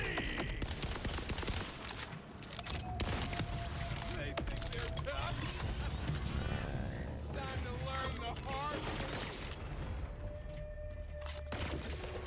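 Turret gunfire rattles in the Borderlands 4 video game, dense and continuous over a layered mix of explosions and game effects.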